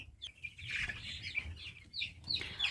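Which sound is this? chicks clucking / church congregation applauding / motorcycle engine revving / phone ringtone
chicks clucking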